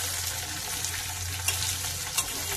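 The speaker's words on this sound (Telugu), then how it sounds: "బీరకాయ ముక్కలు ఇలా వేసానండి. ఇలా మగ్గించుకుందాము." Ridge gourd pieces sizzle steadily in a hot pan as they sauté, a continuous frying hiss with a faint low hum beneath and a couple of brief stirring scrapes.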